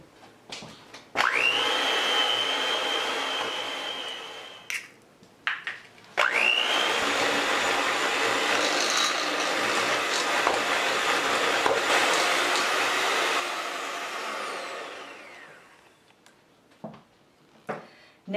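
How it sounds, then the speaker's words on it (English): An electric mixer whirs loudly through molasses spice crinkle cookie batter in two long steady runs, with short clatters and pauses between them. "You could keep using a mixer for this if you'd like"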